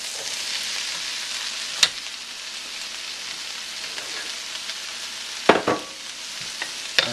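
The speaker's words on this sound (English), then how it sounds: "So now I'm going to add my mushrooms." Mushrooms stir-fried in a hot wok give a steady, soft sizzle and crackle, with a few sharp clanks of the utensil against the pan around the middle and end.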